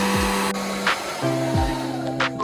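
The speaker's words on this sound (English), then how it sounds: "I'm going to use the blow dryer" A hair blow dryer running on its cool air setting, used to dry lace wig glue until it turns clear, gives a steady close whoosh that holds through the whole stretch with small shifts in pitch and no talking.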